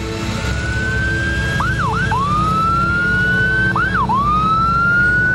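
An ambulance siren wails steadily, with two short rapid yelp bursts breaking the long rising tone, heard at moderate distance over low traffic rumble.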